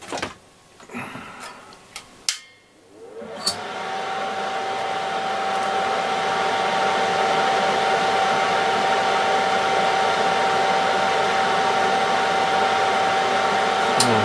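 A fume extractor fan for soldering whirs steadily during a service of a Bush VTR178 video recorder, rising after a few brief clicks and knocks into a loud, continuous broadband hum with a faint tone, running alone.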